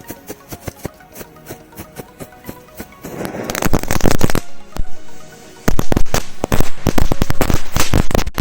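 Firecrackers thrown into an outdoor bonfire go off in a run of sharp cracks, sparse and lighter at first, then dense and loud with rapid crackling bursts and a brief pause midway.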